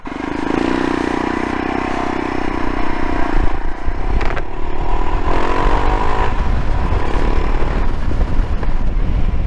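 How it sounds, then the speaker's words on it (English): A motorcycle ridden on a cold day at Kit Hill in Cornwall gives a steady, loud engine drone under heavy wind buffeting, with no talking. "So I'm going to take it for a ride"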